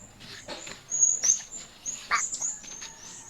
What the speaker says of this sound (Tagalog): Maraming huni ng ibon.